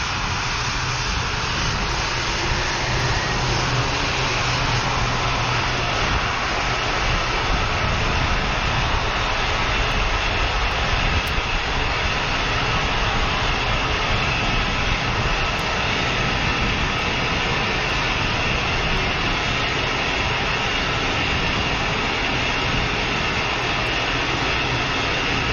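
A NASA Space Launch System full-scale rocket booster roars through a static test firing, a loud, steady, broadband rumble that holds unbroken from start to finish with no voices over it.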